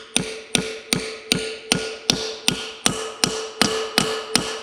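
A valve seal is tapped into an LS engine cylinder head using a 17mm socket, a dozen sharp metallic taps at an even, steady rhythm, close and clear with a slight ringing tone after each hit.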